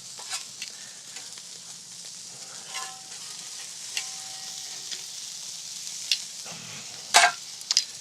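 Sausage and quail sizzle on an outdoor grill in a soft, steady hiss, broken by a few sharp pops and clicks near the end, with no voices.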